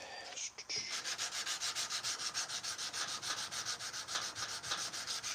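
Sandpaper is rubbed by hand along a forged steel knife blade in a steady rhythm of rapid back-and-forth strokes, a close, continuous scratchy rasp with no talking.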